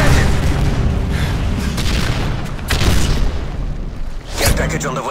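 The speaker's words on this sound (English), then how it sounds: "Predator missile inbound." A predator missile strike in a first-person shooter, with deep rumbling booms and blasts across the clip and a fresh impact near the end, mixed with game voices talking over the action.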